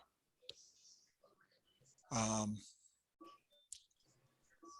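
Sharp computer mouse clicks while working in Adobe Bridge and Photoshop, a few isolated close ticks spread across the moment, plus one louder tonal burst and faint background sounds.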